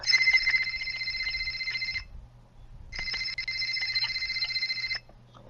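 A telephone rings on an outgoing call, two long bursts of a trilling electronic ring tone separated by a short gap, steady and fairly loud, with no voices.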